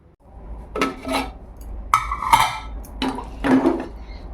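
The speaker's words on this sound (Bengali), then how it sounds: "এবারে ভাতটা বেড়ে নেব।" Utensils knock and scrape against plates while rice is served, in four separate bursts of close clinking and rubbing with quiet gaps between them.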